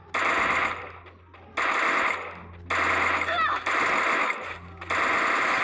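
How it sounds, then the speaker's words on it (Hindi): Rapid automatic gunfire from the mobile battle game Free Fire, fired in sustained bursts of roughly one second with brief gaps, loud and dense, with occasional quiet commentary between. "ओ सामने से बंदे फायर कर रहे हैं"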